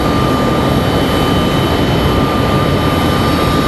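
A Delta airliner jet flying near RDU airport roars loud and steady, with continuous broadband engine noise and no talking.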